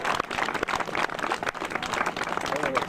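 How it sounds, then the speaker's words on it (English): An audience at a Constitution Day event applauding the speakers, a dense patter of many hands clapping at once, with voices mixed into the applause. "If we could give them one more round of applause real quick."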